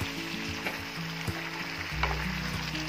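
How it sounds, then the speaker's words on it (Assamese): Pork, spices and mustard greens sizzle in a hot pan while being stirred, with a steady frying hiss and occasional scraping clinks from the stirring. "এতিয়া মাংস, মছলা আৰু লাই শাকখিনি ভালকৈ মিলাই দিম যাতে গোটেইখিনি একেলগে মিক্স হৈ যায়।"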